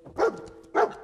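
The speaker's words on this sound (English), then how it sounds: "What are you barking at?" A dog barking in the video game Fallout 4, two short separate barks about half a second apart, clear and fairly close with no talk over them.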